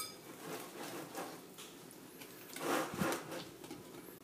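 Bredele Christmas cookie dough being mixed in a bowl, giving soft, irregular scraping and rubbing sounds with a few light knocks against the bowl, close and fairly quiet, with no talking.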